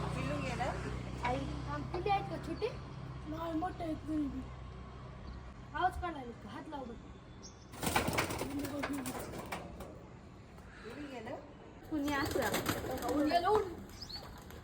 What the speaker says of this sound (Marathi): उडाला एक कबूतर